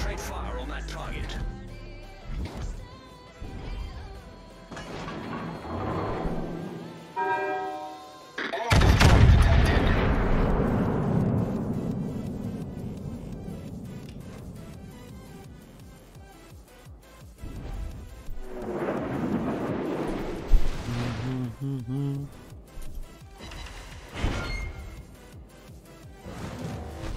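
Warship guns in a naval video game fire at a target, producing heavy booms and rumbling blasts that swell and fade, mixed with game effects and frequent talk throughout.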